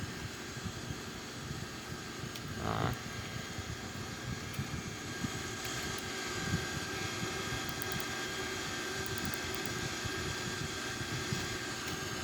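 Airbus A340 jet engines climbing on thrust in a flight simulator, giving a steady, dense broadband roar with a constant hum and a few faint clicks, no talking.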